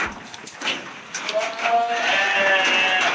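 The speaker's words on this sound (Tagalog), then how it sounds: "Ilang boses rin pala ng mga sheep" Sheep bleat on a farm resort in Bulacan where goats are also kept, several drawn-out calls rising over general background chatter from people nearby.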